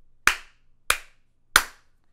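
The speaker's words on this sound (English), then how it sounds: "So if we clap three times again." Three sharp hand claps, evenly spaced about two-thirds of a second apart, made to trigger a clapper sound-activated switch, each crisp and close with quiet gaps between.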